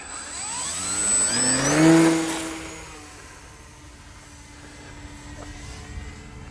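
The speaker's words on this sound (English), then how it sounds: "I got the jet facing that way so I can run it down there to take off" An RC jet plane's turbine engine runs on the ground before takeoff, a loud steady whine with a rising pitch that swells, then settles into a sustained roar and hiss.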